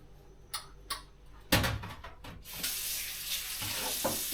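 Water poured over eggplants in a home kitchen, a broad splashing pour that starts abruptly and runs steadily to the end, preceded by a few light knocks and clinks, close and moderately loud.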